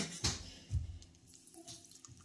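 Water is poured into gram flour batter mixed with ajwain, salt and baking soda for chilli bhaji, giving a couple of brief, soft splashes and light sloshing, faint and close, with no talking.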